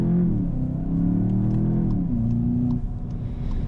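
A 2019 Volkswagen Jetta GLI engine drones loudly as it accelerates hard on the Autobahn, its pitch rising and then shifting lower as it changes gear, with a rough low rumble throughout.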